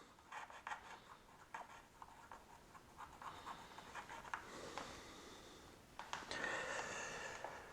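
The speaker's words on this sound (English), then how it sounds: "Alright, draw an outline. Try not to scratch the plastic." A marker scratches an outline onto BMW R1200GS Adventure motorcycle plastic in short, faint, close strokes with quiet rubbing between them.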